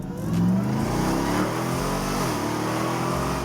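Supercharged Nissan GT-R engine revving and accelerating hard during a test drive, a loud, sustained roar that climbs in pitch and stays strong throughout.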